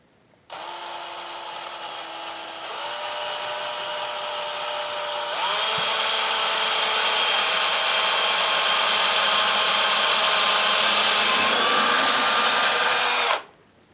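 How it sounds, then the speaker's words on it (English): A cordless power drill whirs while pre-drilling screw holes for window blinds. The motor runs close and steady, then climbs to a higher, louder pitch partway through and cuts off abruptly at the end. "Now we'll grab our drill and we're going to pre-drill those holes."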